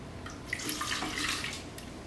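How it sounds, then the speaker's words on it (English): Water is poured over crushed guajillo and ancho chilies, a steady close splashing pour lasting about two seconds with no voices. "add about a cup of water, a little bit less than a cup of water"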